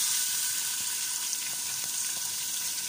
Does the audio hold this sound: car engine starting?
no